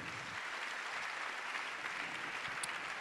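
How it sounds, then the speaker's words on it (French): An audience at a French real estate awards ceremony applauds, sustained dense clapping at moderate level throughout the short moment. "On les applaudit très fort tous les 5, ces jeunes pros."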